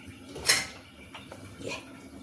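A light metallic clink as a lid settles onto a pot of mustard greens with a cumin tempering, followed by a softer second clatter in a quiet room.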